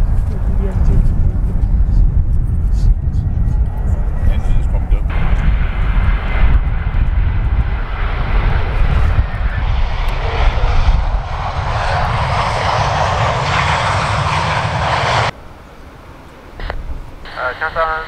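An arriving China Southern Airlines Airbus A319 at Cotswold Airport roars loudly with jet engine noise that swells as it approaches, then cuts away to faint air traffic radio chatter.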